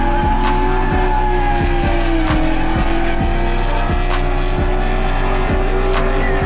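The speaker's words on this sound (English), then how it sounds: "Deep drift easy 240SX LS doing work." A Nissan 240SX drift car with an LS engine at a Pro-Am drifting event screams at high revs with sustained tire squeal, loud and continuous, engine note rising and falling through repeated shifts and throttle pulses.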